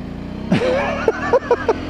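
A motorcycle's engine revs up and holds a rising drone on a road, close and fairly loud, while a voice cuts in with short bursts over it.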